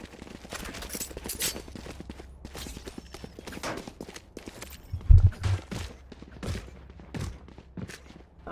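Shotgun gunfire in a competitive Valorant college esports match, heard as a loud, close burst around the middle, followed by a few more sharp shots amid other game sounds and broadband effects.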